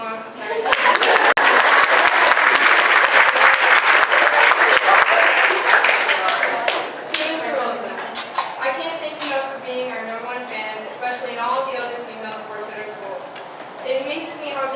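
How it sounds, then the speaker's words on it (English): At the 2018 Wyandotte Bears volleyball banquet, the audience breaks into loud, dense applause for about seven seconds, which then thins to scattered claps as a speaker resumes talking. "You guys can clap if you want."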